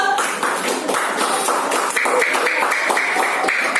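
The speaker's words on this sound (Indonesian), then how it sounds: "Tepuk tangan kelompok 3 dulu" Group of students clapping for a classmates' team at a university session, a steady patter of many hands filling the whole stretch with no talk.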